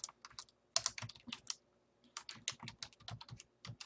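Rapid keystrokes on a computer keyboard as a folder name is typed, close and clear in irregular bursts with a short pause near the middle.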